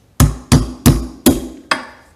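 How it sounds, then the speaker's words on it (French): A small hammer knocks the primer out of a shotgun cartridge through a hollow threaded fitting: five sharp, evenly spaced metallic taps, close and loud, with nothing else heard. "avec un petit marteau,"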